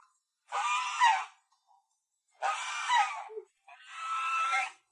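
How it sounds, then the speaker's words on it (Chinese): A goose at a remote mountain farmhouse in Guizhou gives three harsh, hissing honks, each about a second long and separated by short silences, close and aggressive-sounding. "耶，这个鹅好凶哦！"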